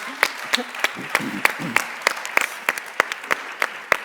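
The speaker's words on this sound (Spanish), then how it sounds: "un aplauso para vosotros" Audience applause at a Spanish trade forum's plenary session: a loose patter of distinct claps of varying strength, with a voice briefly audible near the start.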